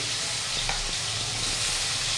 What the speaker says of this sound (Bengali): এটা নেড়ে ছেড়ে ভালো করে একটু ভেজে নেব